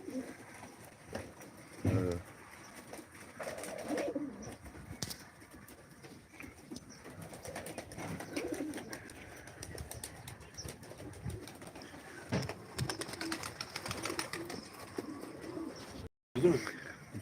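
Live pigeons at a Turkish pigeon auction for tumbler play birds, with soft cooing and occasional wing flaps over a busy background of voices and movement, fairly close and moderate in level.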